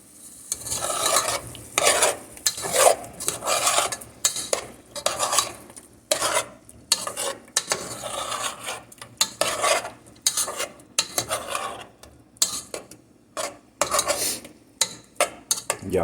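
A utensil repeatedly scrapes and stirs simmering shrimp and grits in a pan, rhythmic close scraping strokes over a soft sizzle, with no talking.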